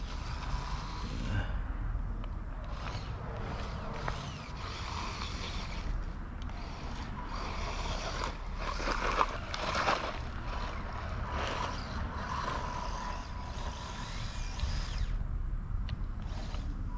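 A WLtoys 144001 RC car motor at light throttle gives off a steady, fairly loud mechanical whir and grind that holds evenly for the whole stretch, with no talking.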